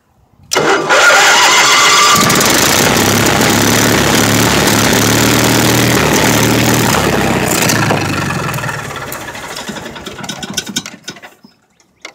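A small engine primed with carb cleaner cranks and catches almost at once, then runs loud and steady at close range before slowing toward idle near the end.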